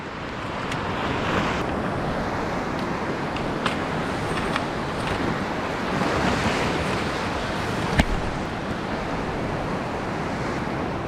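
Big tidal sea surges and breaks around shoreline rocks in a continuous loud wash, with gusty wind buffeting the microphone and a sharp splash near the end.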